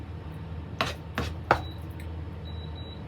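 Vegetables chopped by hand with a knife on a board for pancit: three sharp, distinct chops about half a second apart, close and clear against a quiet room.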